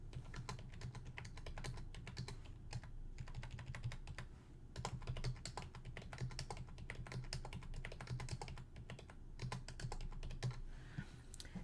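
Computer keyboard typing, steady rapid clicking at close range and quiet level, continuous throughout with no talk.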